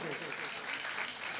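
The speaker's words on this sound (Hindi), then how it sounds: "आप तालियां बजा करके," Brief burst of dense audience clapping at a religious gathering honoring Sant Ravidas's birth anniversary, steady and moderately loud throughout.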